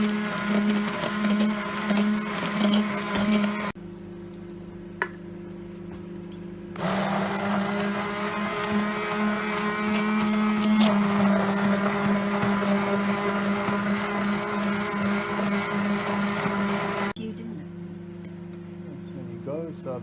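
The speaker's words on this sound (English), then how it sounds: "And now we're going to use our electric whisk." An electric whisk whipping protein fluff runs as a steady motor whine in a bowl, loud and close, cutting out briefly and starting again, with occasional talk over it.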